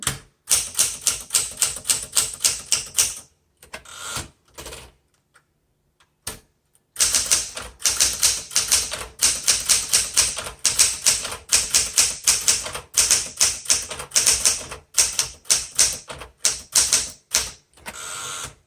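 Rapid keystrokes clatter on a 1969 Smith Corona Classic 12 manual typewriter, close and loud, in fast bursts broken by a few brief pauses.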